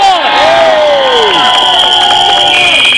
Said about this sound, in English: Let me get a big cheer.